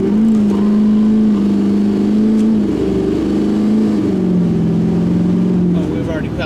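A tuned 2006 LBZ Duramax diesel truck with a 5-inch straight exhaust and no muffler accelerates hard from 0 to 60, a loud, close, droning engine roar rising and shifting in pitch, with voices faintly underneath.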